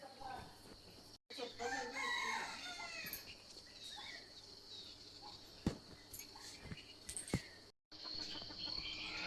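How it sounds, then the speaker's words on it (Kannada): Many chickens in a village home yard, a rooster crowing and hens clucking at a distance, fairly faint, over a steady chirping of crickets and insects. "ಕೋಳಿಗಳೆಲ್ಲ ಪೊಕ್ಕ ಮಾಡ್ತಾ ಇದೆ. ತುಂಬ ಕೋಳಿ ಇದೆ ಅಕ್ಕನ ಮನೆಯಲ್ಲಿ."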